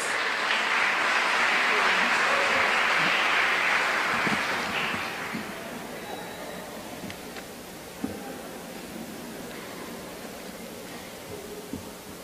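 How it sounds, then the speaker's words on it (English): Audience applause at a closing ceremony for a school competition, a dense, loud clatter of clapping for the first five seconds that fades into quieter room noise with occasional isolated claps. "put your hands together in applause for Mrs. Gail Ozayeta with some final words"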